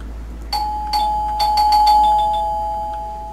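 A doorbell in the horror game Go Home Annie rings repeatedly, a clear electronic chime struck about six times in quick irregular succession, each tone ringing on and overlapping the next, alone and fairly loud.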